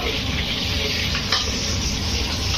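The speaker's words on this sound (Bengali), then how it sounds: "গরম মশলা ভাজা হচ্ছে, রোস্ট করা হচ্ছে, আর এখানে আলু ভাজা" Garam masala roasting beside potatoes frying in a pan makes a close, loud, continuous sizzle with constant stirring noise.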